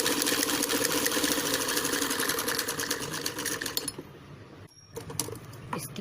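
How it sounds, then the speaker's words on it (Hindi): An electric sewing machine runs a long line of stitching on a padded princess-cut blouse, a fast, steady mechanical chatter close by that slows and stops near the end, followed by a few brief clicks. "बराबर पकड़िए और फुल लॉन्ग स्टिचिंग करेंगे"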